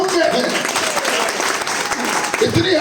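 Sustained applause from an audience at a motivational team event. The clapping is dense and steady for the whole stretch, with voices mixed in.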